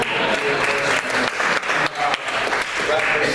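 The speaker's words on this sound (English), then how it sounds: "I think that's a big round of applause" Audience at a Dawson County Chamber luncheon applauding, a dense, steady wash of clapping that fills the whole stretch, with voices mixed in beneath it.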